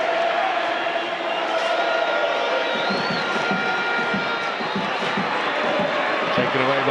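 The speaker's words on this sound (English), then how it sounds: "Crowd are really finding their voice now. It's a wonderful atmosphere here in East London." A football stadium crowd in East London, watching a Premiership match between Chippa United and Mamelodi Sundowns, keeps up a steady, distant roar and cheer throughout, while a commentator talks over it.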